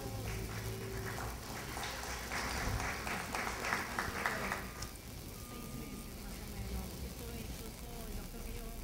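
Audience applause at a youth council recognition ceremony in Miraflores, a dense steady patter of many clapping hands for several seconds, easing off midway, with crowd murmur and a spoken voice around it.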